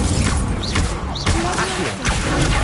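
An Incendio fire spell cast in Hogwarts Legacy, a dense, loud burst of whooshing magical effects with swishes and crackles over steady game noise.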